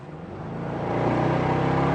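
A Bentley W12 engine revs, its deep, throaty drone swelling steadily louder and holding a strong, rich roar up close, with no voices over it.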